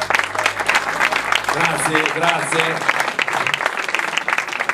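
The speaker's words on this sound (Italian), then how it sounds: "che merita un applauso grande" Audience applause fills a press conference for the 2011 Palio dei Mezzadri, hosted at Osteria Varaschi: dense, steady clapping from a room of people throughout, with someone briefly speaking over it partway through.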